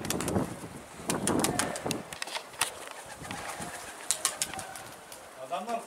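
Pigeons flap and stir near a rooftop loft in Turkey, wingbeats and rustles coming in irregular bursts, fairly close, with soft coos and someone talking at moments.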